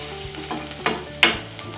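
Onions and green chillies sautéing in a pan, a soft background sizzle broken by a few sharp scraping stirs of a spoon against the pan, close by and with no speech.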